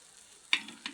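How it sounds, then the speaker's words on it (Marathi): Onion, garlic and salt being sautéed in a pan give a faint, low sizzle, broken by two brief scraping stirs close by. "त्याच्यामध्ये कांदा, लसूण, मीठ एवढं टाकून परतून घेते."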